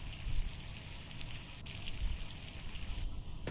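Water pours into a car radiator, gushing steadily for a few seconds, a continuous splashing trickle up close with no voices.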